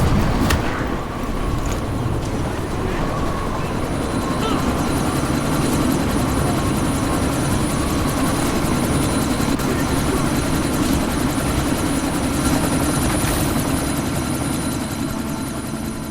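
A helicopter in the video game Deus Ex: Mankind Divided, caught in a sandstorm, roars loud and steady from start to finish. Its rotor thrums in a dense, unbroken wash, with faint game sounds mixed in.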